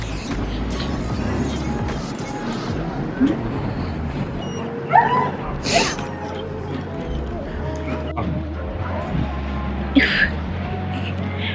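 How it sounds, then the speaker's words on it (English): A puppy whimpers and yips indoors at home, with short high cries and whines scattered through a busy room while several people talk over it nearby. "Watch the pup."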